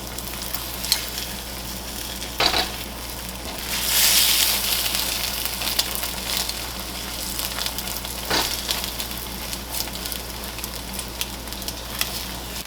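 Beaten egg with a pinch of salt scrambling in a hot pan for pineapple fried rice, a continuous sizzle broken by scraping stirs and a louder hiss partway through.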